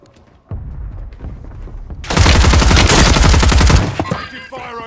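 Gunfire in Call of Duty Warzone on Urzikstan: a single heavy shot, then a loud sustained burst of rapid automatic fire for nearly two seconds, tapering into scattered echoing rounds and faint tonal game effects.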